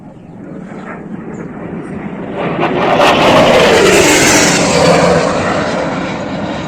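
A missile's jet-like roar builds gradually overhead, swelling loud for several seconds and then slowly fading; a voice speaks faintly beneath it.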